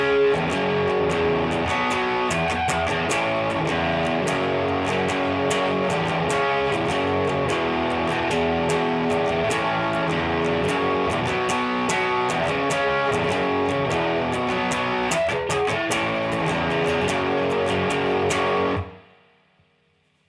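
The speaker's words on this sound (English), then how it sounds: "For the chorus, you need the distortion on, and let me play it for you so you can see what's going on." Distorted electric guitar plays the chorus of a song, a dense, loud, sustained chordal riff with steady rhythmic strums for about nineteen seconds before cutting off into silence.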